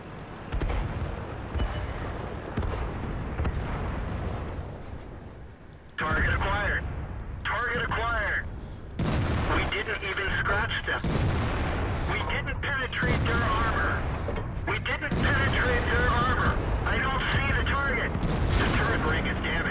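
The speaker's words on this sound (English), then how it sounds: "I did send an artillery strike on that tank that got ammo racked." Artillery strike explosions in World of Tanks, played in the Steel Hunt mode, boom repeatedly in dense bursts mixed with gunfire and rumbling battle noise, with talk over the top throughout.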